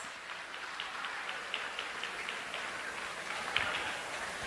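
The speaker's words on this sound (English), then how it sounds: "let's give a round of applause for the President's Honor Roll repeaters" Applause for honor roll students at a high school ceremony, steady clapping from a crowd heard from a distance, even and continuous with no voices over it.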